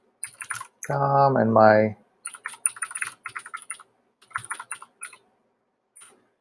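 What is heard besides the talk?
typing an email address on a computer keyboard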